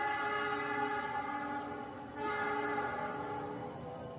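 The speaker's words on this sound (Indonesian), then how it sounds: "Ini dia lampu dari kereta api Turangga." The Turangga passenger train passes at night near Cibatu, Garut, its horn sounding as a sustained, layered tone over the low rumble of the cars rolling by, fairly close and with no voices.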